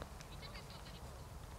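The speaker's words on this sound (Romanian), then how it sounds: "auzi că behăie. Dacă nu sunt oile lor, însă noastre." Sheep bleating in a Romanian village, several short, faint-to-moderate bleats repeating over a steady low background rumble, with no speech over them.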